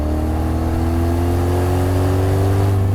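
A V8 engine swapped into a small car pulls hard under acceleration, a loud steady drone with rising pitch filling the whole stretch, close and continuous, no talk.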